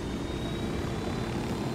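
A stolen helicopter in the video game Ghost Recon Wildlands flies with a steady, loud rotor and engine roar, a continuous droning wash without any voices.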